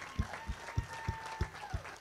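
Congregation applause during a church sermon, moderate clapping with a regular thumping beat of low hits roughly every third of a second, sustained over a faint tonal hum.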